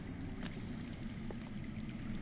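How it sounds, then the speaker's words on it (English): Flowing underground water in the Game of Thrones Telltale video game, a steady low rushing and gurgling wash that stays even and continuous throughout, somewhat muffled and distant. "I hear water. From underground."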